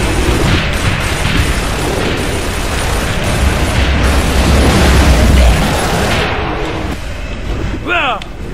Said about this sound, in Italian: Vedete quei razzi lontani!